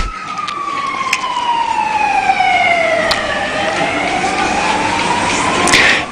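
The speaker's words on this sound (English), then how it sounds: "the fire engine or the ambulance is racing down the road with great speed" A wailing siren sweeps up and down continuously, loud and close, with steady traffic rumble underneath and no voices.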